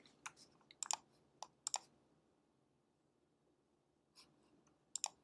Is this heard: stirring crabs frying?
no